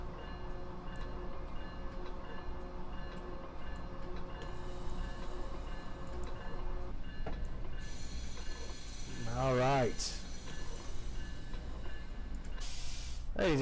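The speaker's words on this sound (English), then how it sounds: "Let's go ahead and bring her to a halt since we get the whole train on the platform" A Caltrain commuter train in Train Simulator slows and brakes to a stop at a station platform: steady low engine and rail drone with ticking, a hissing brake release and a squealing whine near the end.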